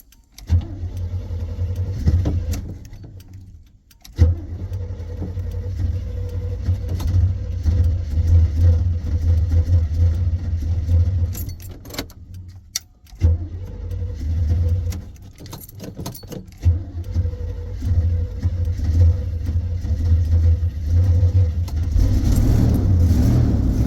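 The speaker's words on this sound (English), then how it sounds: "I forgot what it was like to drive a 40-year-old vehicle with a manual choke." A 1982 Itasca Sundancer 21-foot motorhome, 40 years old with a manual choke, drives off with a loud, close engine drone that revs and pulls. There are two brief drops near silence, like stalls or shifts, before the engine picks up again.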